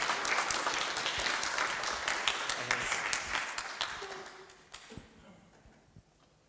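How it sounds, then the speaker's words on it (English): Audience applause at the ICONIC 2024 conference, a room full of steady clapping that fades out toward the end, with a few scattered final claps. "Give another applause, please."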